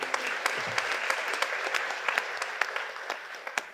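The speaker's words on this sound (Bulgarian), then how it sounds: "Аплодисменти за мен." Steady applause from a comedy roast audience, dense clapping throughout with a few sharper individual claps standing out.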